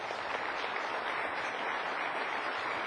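Audience applause at a closing session of an IBM Africa event, a steady dense wash of clapping from a large crowd filling the whole stretch without talk.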